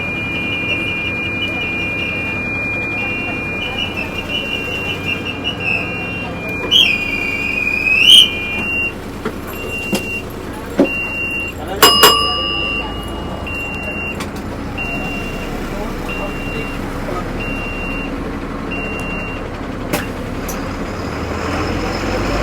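A new MSRTC BS-6 bus pulls out of a bus station on a Bhayander to Dapoli run, with a steady engine and road hum heard from inside, a few sharp whistle-like squeals and brief clunks partway through.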